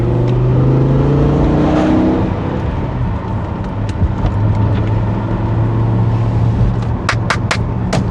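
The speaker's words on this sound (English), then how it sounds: "There's that V10 roar." A BMW M5's V10 engine roars as the car drives, loud and close, with the revs rising and falling in long sweeps and a few sharp clicks near the end.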